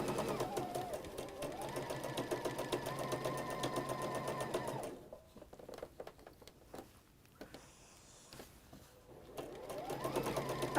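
A sewing machine runs steadily for about five seconds, stitching the other side seam of a garment with an ordinary stitch, then stops, leaving quieter handling sounds before the motor starts again briefly near the end.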